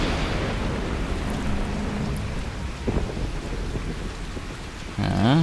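Thunderstorm ambience from The Witcher 2 video game, with steady rain hiss and low rumbling thunder running throughout, a brief crackle near the middle and a louder surge at the end.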